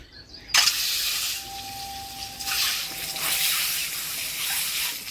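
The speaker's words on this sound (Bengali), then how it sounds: "প্রথমে ডিমগুলো ভাজি নেবো" Hen's eggs frying in a pan for an egg curry: a sudden burst of sharp, hissing sizzle as they hit the hot oil, holding steady and loud with slight swells, no talking.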